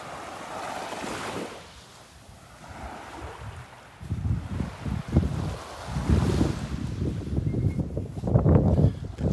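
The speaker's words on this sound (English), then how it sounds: "Like the wind's coming out of the south now." Wind buffeting a microphone on a beach at Delnor-Wiggins in the morning, with waves and surf, heard as continuous rumbling gusts that grow louder and choppier partway through.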